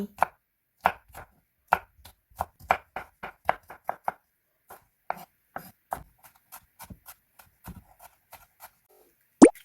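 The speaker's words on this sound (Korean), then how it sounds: "노란 파프리카와 같이 채 썰고 다지기" A knife julienning and mincing red and yellow paprika (bell peppers) on a board: crisp, close chopping strokes in quick, uneven bursts with brief pauses, and no voices.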